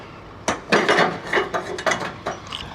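Metal fastener on a damaged trailer being loosened with a ratchet: several close, sharp ratcheting bursts in quick succession, with brief pauses between the pulls.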